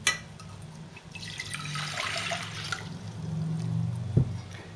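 Water poured into a pot for a cake syrup in a home kitchen, a steady close splashing fill that runs the whole time with a sharper knock near the end.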